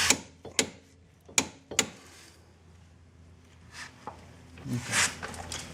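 A ratchet wrench tightens caliper bracket bolts on a car brake during a front wheel bearing job, with several sharp ratcheting clicks close by, then softer clinks and tool handling near the end.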